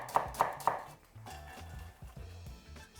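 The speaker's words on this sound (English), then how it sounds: "And then just thinly slice through." A knife thinly slicing onion on a cutting board gives three sharp, close chops, then softer irregular cuts continue at low volume.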